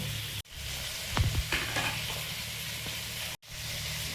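Prawns with carrot, onion, tomato and green chilli frying in a pan, a steady close sizzle with brief clatters of stirring partway through and two short dropouts in the sound.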